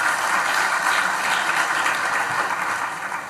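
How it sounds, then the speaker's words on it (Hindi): At a scholarship award ceremony, an audience gives loud, continuous applause as a state minister is welcomed on stage, a thick, close wall of clapping with no speech over it, easing off slightly at the end. "आप सबकी जोरदार तालियां चाहता हूं।"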